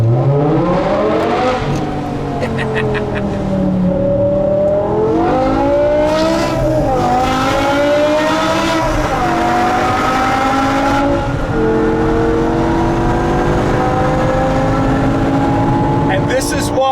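A 2008 BMW M5 E60 with its V10 engine revving hard, loud and close, rising and falling through several sweeping pitch climbs across a long sustained run, with a brief sharp blip near the end.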